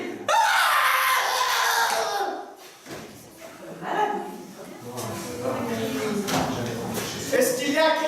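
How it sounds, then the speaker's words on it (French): A person screams loudly and sustained at first, then cries and wails in broken bursts, with barking-like yelps and voiced sobbing mixed throughout. "Je vais crier."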